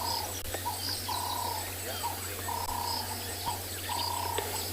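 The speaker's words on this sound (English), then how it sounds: "And all of the sound that you hear from birds." Birds call repeatedly at a South African safari reserve in the afternoon, their clear chirps and whistles overlapping at moderate distance over a steady low hum, with insect-like buzzing in the background.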